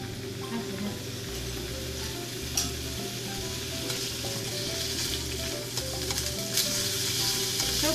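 Pork belly fries in olive oil in a frying pan with a steady, even sizzle and faint stirring clicks, moderately quiet and close, with no talk.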